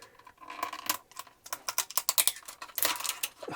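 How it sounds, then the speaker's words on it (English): Plastic and cardboard packaging of a Majorette toy car is torn and crinkled open, a close series of crackling, snapping rustles in irregular bursts. "I can't really talk while I'm opening them because it's just, this stuff is so noisy."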